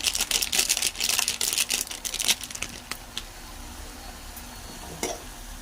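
Coriander seeds and masala powder frying in a pan for a spicy Andhra-style meat curry: crisp, crackling sizzles and a dry scraping stir that are busy at first, then settle to a quieter sizzle with an occasional pop.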